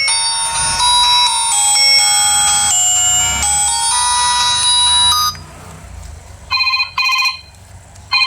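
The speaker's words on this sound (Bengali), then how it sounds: "রিংটোন কতটা ক্লিয়ার ছিল চলুন দেখা যাক" A durable feature phone plays a loud, bright melodic ringtone for about five seconds, followed by a short pause and then a few repeated electronic beep bursts.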